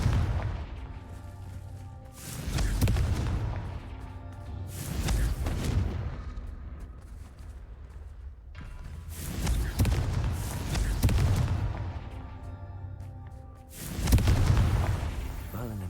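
Repeated booming blasts of the Confringo explosive spell in Hogwarts Legacy, four or five loud broadband bursts spaced every few seconds over a steady low rumble of game ambience.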